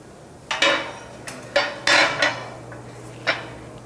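At a blacksmithing conference demonstration, a regular hammer strikes metal about six or seven times in an uneven rhythm. The sharp, ringing blows are close and clear over a quiet background hum.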